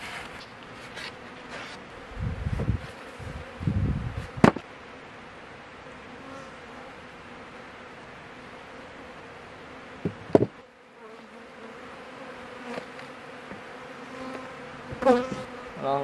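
Honey bees buzz steadily around outdoor hive boxes warming in direct sun, a continuous insect drone with a few louder passes close by and occasional brief knocks.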